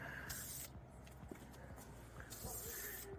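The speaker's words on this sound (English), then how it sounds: "This is probably like the funnest spray painting you can do." Bursts of hissing spray paint on Suzuki Samurai car seats come and go in two long blasts, close by, over a low background hum and faint tapping.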